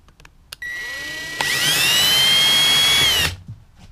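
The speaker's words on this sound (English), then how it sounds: "Just as simple as just taking a quick little drill like this, drilling a slight little pilot hole" A small handheld drill whines up to a steady high-pitched spin, boring a pilot hole into a trailer wall for about two seconds before winding down, close and loud with no talking.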